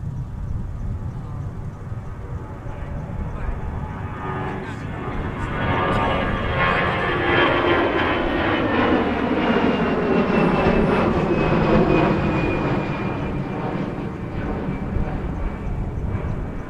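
A Delta airliner lands on runway 30 left at Minneapolis–St. Paul, its jet engine roar swelling steadily and holding loud and near, with a descending whine sweeping through the rumble as it passes.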